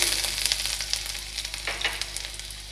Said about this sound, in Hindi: तेल हमारा अच्छे से गर्म हो गया है अब हम इसमें डालेंगे हमारा लहसुन